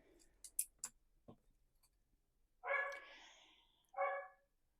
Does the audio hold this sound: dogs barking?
yes